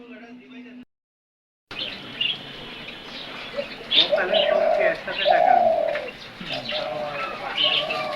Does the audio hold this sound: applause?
no